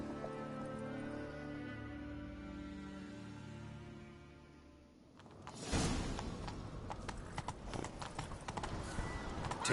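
Horse hooves clip-clop and gallop in The Witcher 3, beginning after a stretch of music and growing loud and close as a fast, uneven run of hoofbeats through the second half.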